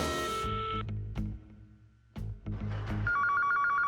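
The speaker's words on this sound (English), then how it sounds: "I got a phone. Let's give him a ring." A cartoon telephone rings loudly in repeated electronic bursts, with a short pause in the middle and then a higher, steady trilling ring toward the end, with no talking.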